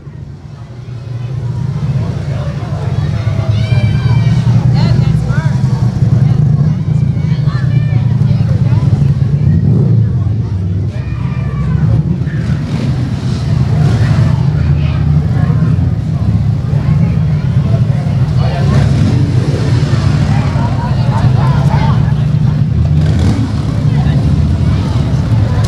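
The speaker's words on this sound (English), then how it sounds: "I really enjoyed how they revved the motorcycles." Motorcycle engines rumble and rev in a steady, loud drone during a street parade, with wind buffeting the microphone and a crowd chattering in the background.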